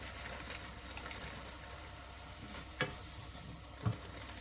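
Garlic fries in a pan with a soft, continuous sizzle, faint and even throughout, broken by a couple of brief clinks from stirring.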